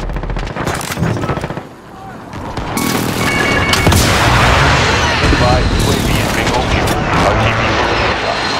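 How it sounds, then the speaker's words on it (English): Precision airstrike explosions in a video game, heavy rumbling blasts and gunfire building into a loud continuous roar of bombardment after a brief dip, with voices calling out over it. "Be advised, friendly precision airstrike inbound."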